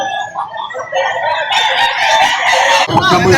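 An 8-month-old Golden Boy Sweater gamecock crows loudly and up close at a poultry market in Lipa City, Batangas. A long, drawn-out crow rises over background clucking and other birds.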